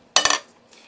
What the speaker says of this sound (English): Let's open that up, give it a stir.